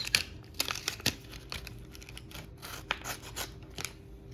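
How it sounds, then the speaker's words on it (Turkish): Scissors snip repeatedly at close range, cutting open a package, sharp clipped cuts mixed with crinkling plastic packaging, no talking. "Makasımız geldi."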